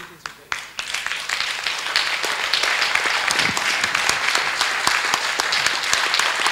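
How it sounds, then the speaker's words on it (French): Loud audience applause at a live Argentine-themed evening show, starting with a few scattered claps and then swelling into dense, sustained clapping that carries on to the end. "Et vos applaudissements, c'est le signe de cette reconnaissance."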